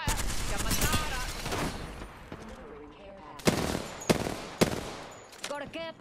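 Rapid bursts of automatic gunfire from an Apex Legends match crack in loud clusters, then sharper separated shots follow, with game voice lines mixed in.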